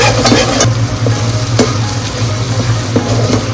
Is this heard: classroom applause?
no